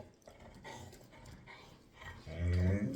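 A dog pants nearby in quick, breathy bursts, with a low whimpering or grumbling sound near the end, amid background voices and household noise.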